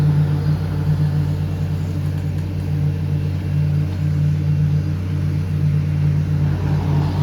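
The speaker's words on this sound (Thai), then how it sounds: "อันนี้เป็นเอ่อเวอร์เกนนะครับ เป็นรถปูคอนกรีตนะ" A Wirtgen concrete paving machine runs steadily on a road paving job, a loud, even diesel drone with a strong low hum and no pauses.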